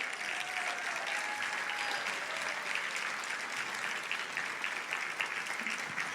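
An audience at an Arangetram dance recital applauds steadily and evenly throughout, a dense indoor clapping heard alone.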